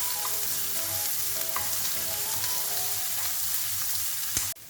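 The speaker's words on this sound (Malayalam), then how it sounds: "നമുക്ക് ഇതിലേക്ക് ചോപ്പ് വെച്ചിരിക്കുന്ന സവാള ഇട്ട് കൊടുക്കാം. ഇത് ഗോൾഡൻ കളർ ആവുന്ന വരെ ഒന്ന് വഴറ്റിയെടുക്കാം." Chopped onions sautéing in a pan until golden for a kadala parippu masala give a steady, even sizzle with occasional soft scrapes of a spoon, ending in a short clatter.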